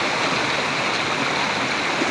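Steady broadband rush of flowing stream water as someone wades through it while foraging for bamboo shoots, continuous and close with no talking.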